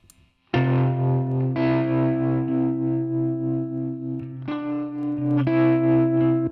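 An electric guitar played through an American Clean amp preset with a room-mic character rings out chords that sustain strongly, with fresh strums about once a second and no talking over them.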